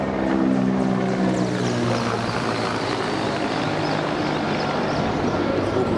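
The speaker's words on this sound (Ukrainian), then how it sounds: "у нас вже гелікоптери літають да, по Полтаві. Воєнний похоже." A military helicopter flies over Poltava, its loud, steady rotor and engine drone filling the whole stretch without a break.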